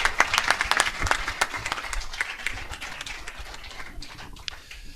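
Audience applause at a Spanish book presentation: a crowd claps in a dense, steady burst that gradually thins and fades over a few seconds.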